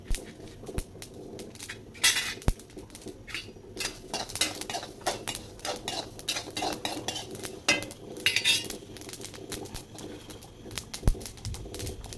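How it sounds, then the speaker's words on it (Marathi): Masala spices for a village-style egg curry being dry-roasted in a pan, with repeated scraping and clinking of a spoon against metal in an irregular rhythm, close and fairly loud, no talk. "लालसर होईपर्यंत सर्व मसाला भाजून घ्यायचा"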